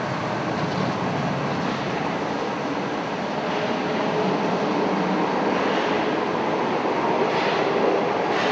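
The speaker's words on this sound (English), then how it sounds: "From arrival to departure, this train was 1 minute and 7 seconds." A passenger train at a Paris station makes a continuous loud rumble and hiss as it rolls in, pauses briefly and pulls away, steady throughout with no voices.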